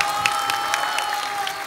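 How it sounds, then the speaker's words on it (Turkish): A studio audience claps briefly and steadily at a Turkish televised singing competition. The applause sounds moderately distant, with scattered crisp claps. "Siz neyi alkışlıyorsunuz?"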